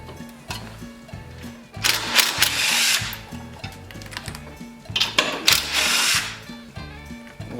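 A power drill with a half-inch deep well socket backing bolts off a Toro CCR 3650 snowblower, in short whirring bursts with ratcheting pulses, close up and fairly loud between pauses.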